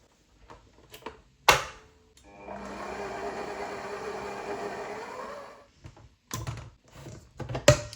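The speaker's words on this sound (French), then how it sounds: "on vient mélanger les œufs avec le sucre jusqu'à ce que ça devienne crémeux." Electric hand mixer whipping eggs with sugar until creamy runs steadily for about three seconds with a continuous whirring drone, bracketed by clatter and knocks of the bowl and utensils nearby.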